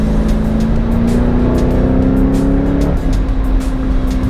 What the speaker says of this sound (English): Gam Gams is driving. Oh, she coming